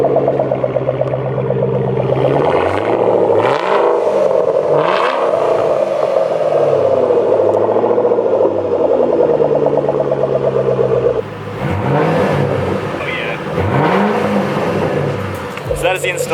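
A 2010 Shelby GT500 Mustang fitted with a Roush axle-back exhaust fires up for the first time, a deep loud rumbling idle with repeated throaty revs and a brief dip before revving again, close to the car.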